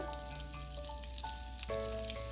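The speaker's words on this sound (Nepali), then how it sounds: "अब बटरलाई मेल्ट हुन दिउँ" Butter melting and sizzling in a pan for jhaneko momo, a steady close crackle with small pops throughout.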